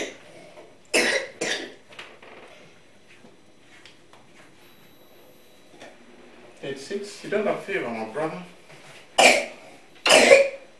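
A child coughs in a few sharp bursts, one early and a pair close together near the end, with someone talking calmly in between at close range indoors.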